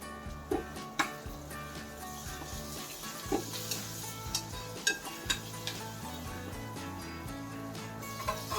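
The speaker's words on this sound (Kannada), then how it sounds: "ಈ ಟೊಮೊಟೊ ಕೂಡ ಫ್ರೈ ಆಗಲಿ ಚೆನ್ನಾಗಿ" Tomato frying with popped mustard seeds in a pan, a steady sizzle under layered background tones, punctuated by about a dozen sharp clinks of a spoon stirring against the pan.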